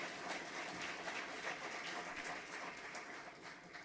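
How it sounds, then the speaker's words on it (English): A crowd at a school award ceremony claps steadily for a few seconds for students, moderately distant, with no talking over it. "let's give one more big round of applause to all of the students"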